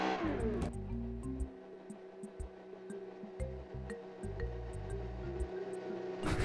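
A car engine runs in first gear in eco mode, a low, rough, tractor-like rumble that swells and eases in uneven pulses, fairly quiet with faint ticking above it.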